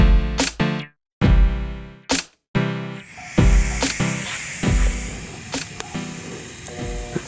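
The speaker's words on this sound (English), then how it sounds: "we're going to start welding" TIG welding on a pipe root pass, walking the cup, with harmonic-rich electrical buzzing and hissing arc bursts that start and cut out several times, then a continuous crackling hiss with intermittent pops.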